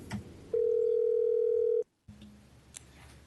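A telephone dial tone on a conference call line to a trustee of the Oregon Institute of Technology: a steady, loud single tone holds for over a second, cuts to brief silence, then a faint hum and soft clicks follow.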